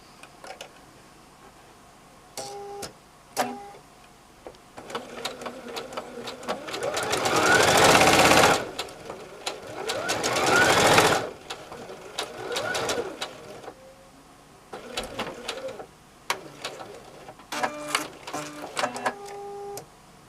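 A sewing machine stitches a quarter-inch seam on a bucket hat in two sustained runs, each a few seconds long, with quieter handling and shuffling of fabric before and after.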